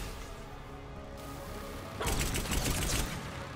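Gunfire from a gun in the video game Mass Effect 3, a loud sustained burst of rapid shots starting midway over a steady humming background, lasting about a second before fading back.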